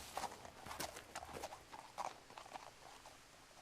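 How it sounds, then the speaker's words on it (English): Faint, quiet hoof-like clopping, like a horse, in the video game What Remains of Edith Finch, patters irregularly in the distance, soft thuds scattered over a few seconds. "Okay, it sounds like a horse."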